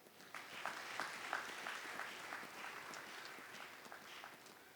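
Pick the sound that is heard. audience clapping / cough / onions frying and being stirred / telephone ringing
audience clapping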